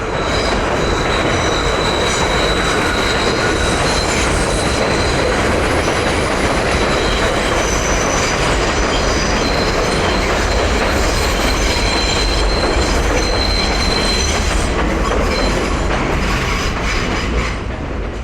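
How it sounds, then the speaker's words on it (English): A D subway train rolls in on a grade along New Utrecht Avenue in Brooklyn, its wheels screeching steadily against the rails over a dense, continuous roar of rail noise and clatter. "A D train coming in on the grade, screeching on the tracks."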